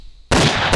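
A single sharp, loud shotgun blast from a third-person shooter video game, bursting suddenly after near-silence and ringing briefly.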